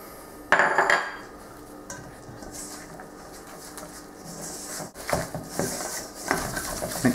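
A spoon clinks and scrapes around a bowl, stirring cocoa powder and caster sugar together in quick, irregular taps and rattles, fairly close and moderately quiet.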